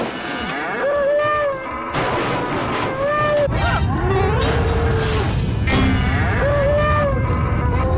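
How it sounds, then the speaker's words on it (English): Cartoon cow mooing in an SMG4 Mario animation, several loud drawn-out moos repeating in quick succession, with crashing noises and voices overlapping. "You bought a whole cow!"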